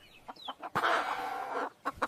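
A hen clucks a few short times, then lets out a long, loud squawking cackle before two more quick clucks.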